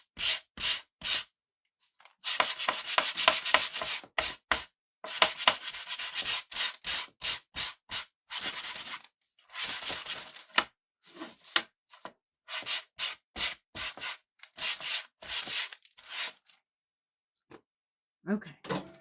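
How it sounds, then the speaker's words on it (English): Sandpaper rubs across wooden edges and a flat top in quick, rhythmic back-and-forth strokes. The strokes are close and loud, come in runs broken by short pauses, and are faster and denser in places. "I did the rough sandpaper for around the edges, but then across the top, I'm taking my little finer grit."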